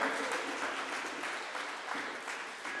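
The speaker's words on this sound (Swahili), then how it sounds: "Wapigieni makofi" A congregation at a Swahili Sunday Mass claps for visitors, steady, moderately distant applause filling the church, with no clear talk over it.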